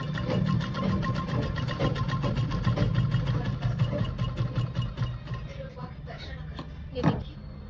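A sewing machine stitching a baby frock, a rapid rhythmic mechanical chatter running steadily for several seconds before slowing and stopping, with someone talking over it.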